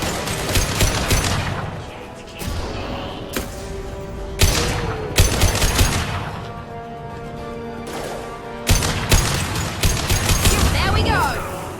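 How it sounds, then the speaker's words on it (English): Concussive shot and gunfire in the video game Mass Effect 2, loud repeated bursts of rapid weapon fire and heavy impact blasts in clustered volleys, mixed with game voices and music throughout. "Firing concussive shot!"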